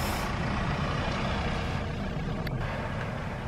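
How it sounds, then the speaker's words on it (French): A vehicle rumbles past on a street at night, a steady loud low engine and tire roar throughout, with a faint brief high squeak midway. "Évidemment, je filme quand il y a une voiture."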